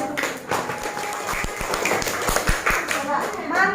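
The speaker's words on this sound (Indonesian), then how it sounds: "Oke, tepuk tangan buat teman-teman." Schoolchildren in a classroom lesson clap their hands for their classmates, a scattered round of sharp claps with some voices and chatter mixed in.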